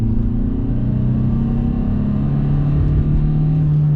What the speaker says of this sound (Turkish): Gördüğün gibi yokuş yukarı çıkıyoruz. Gaza köklediğimiz anda